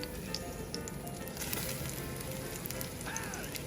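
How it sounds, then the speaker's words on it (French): Lamb shoulder searing in a hot pan: a continuous close hissing sizzle with small crackles and pops, steady in level from start to finish, with no voices. "À bien saisir la viande."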